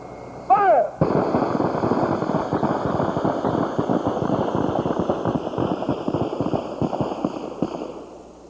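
Rapid, dense volleys of gunfire during firearms training, loud and close, with sharp overlapping shots cracking continuously for several seconds after a brief whistle-like tone at the start.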